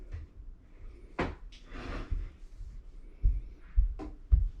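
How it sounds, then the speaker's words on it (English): A back door fitted with a wired door switch tied into a wireless home security sensor is opened and later closed, giving a few soft knocks and thumps, with a sharper clunk near the end over quiet room noise. "Now what we're watching for is when he opens the back door"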